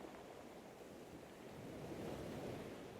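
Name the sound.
gentle ocean waves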